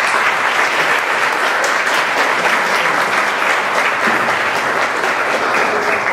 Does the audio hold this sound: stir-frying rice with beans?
no